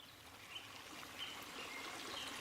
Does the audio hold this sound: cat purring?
no